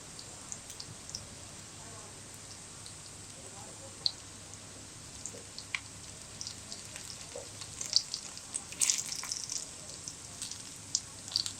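Leftover roti cutlets pan-fry until golden, giving a soft, steady crackling sizzle with scattered small pops that grow busier toward the end, fairly faint and close.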